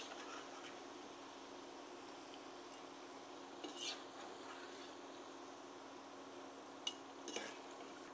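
Fried sweet potato is lifted out of hot oil with a metal scoop. A faint background sizzle carries a few soft scrapes and light clinks.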